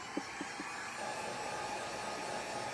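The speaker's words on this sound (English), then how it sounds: "and take my heat gun" Heat gun blowing on a tumbler craft project, a steady soft hiss of airflow after a few faint clicks.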